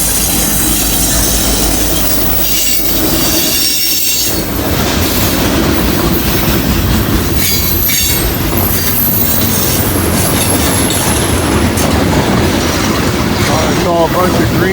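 A long freight train rolls past at close range on a snowy day, with a loud continuous rumble, rhythmic clickety-clack of wheels and occasional squealing.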